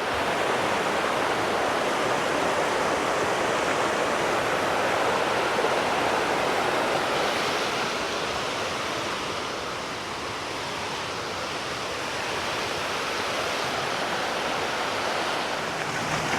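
A river flows along a trail toward Lake Hintersee in Ramsau, Berchtesgaden National Park, as a steady, dense rushing of water that stays close and loud throughout and eases slightly partway through.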